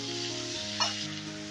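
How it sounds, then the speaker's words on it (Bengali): Pointed gourd and yardlong beans fry in oil in a pan, a steady close sizzle with a brief stirring scrape partway through. "এবারে পটল আর বরবটিটাকেও হালকা করে ভেজে নেব।"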